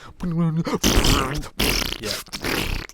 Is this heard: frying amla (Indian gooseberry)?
no